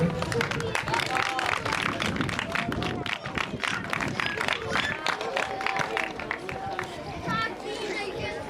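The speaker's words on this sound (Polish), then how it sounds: "Dobra brawa, gratulacje." Applause from an audience at a sailing regatta prize ceremony for Optimist and Laser classes, steady clapping throughout mixed with crowd chatter and a voice talking over it.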